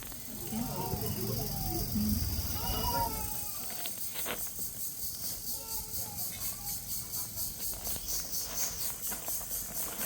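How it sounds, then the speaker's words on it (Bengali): Birds chirp in short, bright bursts of whistled calls, clustered near the start and again midway, over a steady hiss of background noise. "পাখির শব্দ রে"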